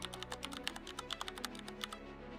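Rapid typing on a computer keyboard, a quick irregular run of light clicky keystrokes close up, fairly faint against a low background hum, ending after a couple of seconds.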